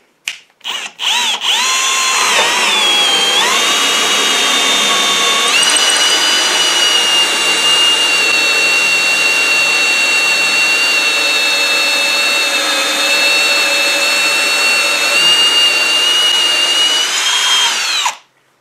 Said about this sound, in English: so now I need to drill 1½-inch hole in here